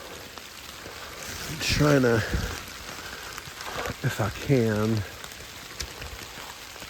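Steady light-to-moderate rain falls on a wooded trail across from Bloody Pond at Shiloh, an even soft hiss running throughout beneath someone talking close by.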